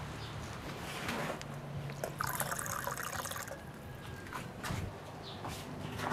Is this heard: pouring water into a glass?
yes